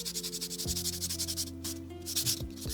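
Fine 1000 grit sandpaper rubbing in steady back-and-forth strokes over a part of an Exakta II camera being overhauled, a soft rhythmic scratchy hiss close up, with no talking.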